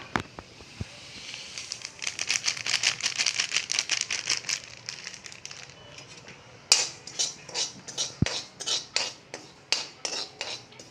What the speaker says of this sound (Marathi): मी आज खसखस टाकून भाजून घेते पूर्ण.